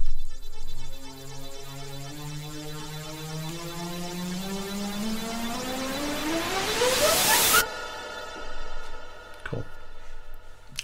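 A noise-based synth riser built in Serum with plate reverb sweeps steadily upward in pitch and brightness for about seven seconds, then cuts off abruptly, leaving a short reverb tail and faint sparse hits.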